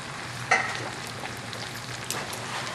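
Hand-crushed canned plum tomatoes going into a hot pan while making linguine with clams, giving a brief splashy burst and then a soft, steady sizzle close by, with no talk.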